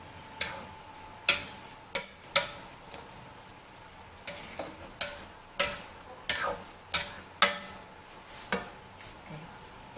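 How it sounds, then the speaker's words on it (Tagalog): A spoon stirs arroz valenciana, sticky rice cooking in coconut milk broth, against the pot in a series of sharp scraping knocks and clacks over a quiet simmering sizzle, close and irregular with no talking. "Halo tayo ng halo. Ito po atin siyang haluin para ma-absorb niya yung mga gata niya."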